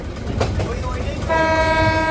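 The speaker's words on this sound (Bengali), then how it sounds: "এই ভোর হওয়ার আগের মুহূর্তে ট্রেন ছুটে চলেছে মোহনগঞ্জের পথে।" The Haor Express passenger train runs toward Mohanganj before dawn with a steady, close rolling rumble, and a sustained horn-like tone joins in the second half.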